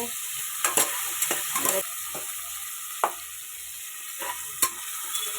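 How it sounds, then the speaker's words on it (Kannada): Tomatoes frying and sizzling in a pan for tomato bath, with a steady hiss and a few scraping stirs of a spatula at irregular intervals, close and fairly quiet. "ಟೊಮೊಟೊ ಸ್ವಲ್ಪ ಚೆನ್ನಾಗಿ ಫ್ರೈ ಆಗಲಿ."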